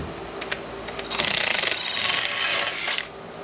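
A power tool removes bolts from a large scrap motor: a few small metallic clicks, then a couple of seconds of close, buzzing whir in uneven bursts.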